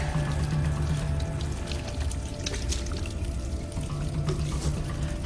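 Water from an underground spring runs in a steady, dense rushing stream, constant and close throughout with no voices.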